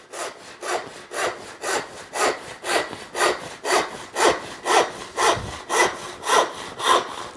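A hand saw rips along wood clamped in a vise, making steady, evenly paced rasping strokes, about a dozen full back-and-forth cuts, close and clear with no talking.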